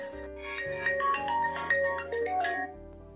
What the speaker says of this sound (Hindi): फ़ोन आ रहा है, 1 मिनट।